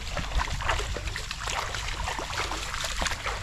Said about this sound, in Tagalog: May makina oh.